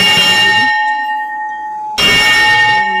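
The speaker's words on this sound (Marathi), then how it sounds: "घंटा वाजीला" A bell rings out twice at an ashram in a scenic rural setting. Each strike sounds loud and close, with a bright metallic ring. The first fades over most of a second, and the second follows at about two seconds and sustains to the end.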